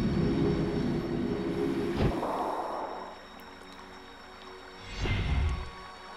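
Tram running in the adventure game The Dig: a steady rumbling rail ride with a metallic screech around two seconds in, a quieter stretch, then a second rumbling swell, with no talk.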